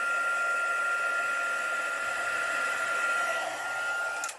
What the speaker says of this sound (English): But just in the interest of speeding things up, I'll just quickly set it with my heat gun.